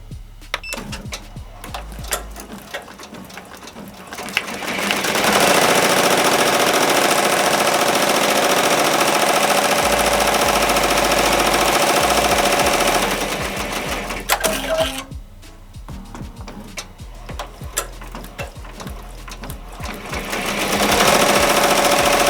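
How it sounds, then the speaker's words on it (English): An embroidery machine lays a base stitch over foam in fast, steady mechanical clatter, pausing between runs with quieter clicks and handling noises before resuming. "The machine's gonna lay down a base stitch that's gonna hold the foam in place"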